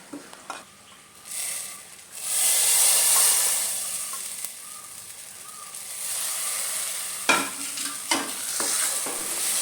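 Roasted grated coconut being stirred into a pumpkin erissery curry in a pan: a steady sizzling hiss with soft stirring scrapes, and a cluster of sharper utensil clatters near the end.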